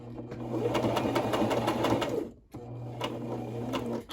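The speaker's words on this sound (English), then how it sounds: "I'm just going to back stitch" A sewing machine back stitches through pants fabric, a steady close whirring with rapid needle ticks that stops briefly midway, then resumes.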